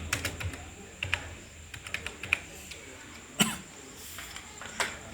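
Soft, uneven keyboard typing while entering birthplace and date values into an Excel spreadsheet, with sparse clicks and a couple of sharper taps against quiet room noise.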